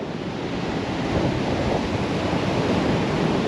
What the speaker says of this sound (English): Oh, the sea is angry.